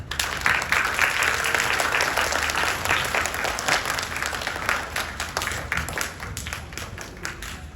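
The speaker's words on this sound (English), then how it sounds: "Give yourselves a round of applause." A crowd at a school grade pinning ceremony gives sustained, dense applause from many hands. The clapping stays loud and continuous, then thins slightly toward the end, with no talking over it.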